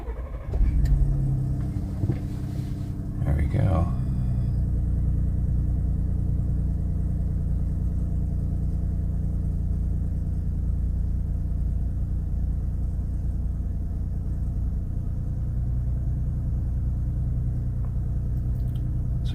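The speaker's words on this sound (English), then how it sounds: "I'm going to go ahead and start the truck." A Ford Expedition 3.5 EcoBoost truck with a cam phaser rattle fault cranks, catches and settles into a steady low idle that continues for many seconds. One short remark is spoken over the start.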